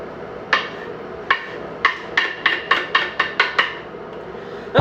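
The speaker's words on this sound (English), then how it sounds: "We are cutting vegetables today." Knife chopping fresh vegetables on a cutting board, about a dozen crisp, close knocks, first spaced, then a quicker run, over faint room hum with no talk.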